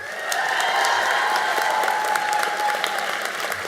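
Applause from the audience at an Emerson College School of Communication graduate hooding ceremony, a full, sustained wash of many hands clapping in a large hall, holding steady and easing slightly toward the end, with faint cheering mixed in.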